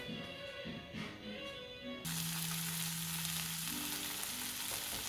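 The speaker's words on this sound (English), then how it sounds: "it's nice and sizzling, warming up" Loud, steady sizzling of soyrizo frying in a pan, a continuous crackling hiss that grows stronger partway through.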